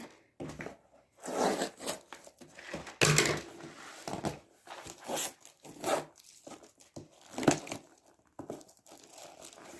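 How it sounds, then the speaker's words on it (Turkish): Crinkly plastic packaging of a new mop is torn and crumpled open in close, irregular bursts of rustling and ripping separated by short quiet pauses. "Bunun paketini şöyle bir açayım."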